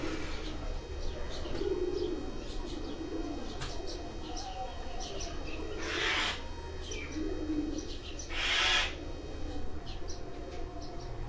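Pigeons coo in low, repeated murmurs on a rooftop loft, with occasional small chirps and a couple of louder brief bursts of noise, all over a steady background hum.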